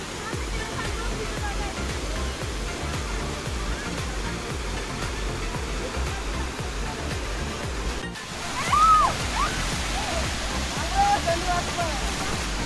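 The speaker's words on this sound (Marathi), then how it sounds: "हे हरकुळचं डॅम आहे आणि तिथं ओव्हरफ्लो झालेलं पाणी इथून बाहेर पडतं" Overflow water from a dam rushing out in a steady, loud roar close by, with voices talking briefly near the end.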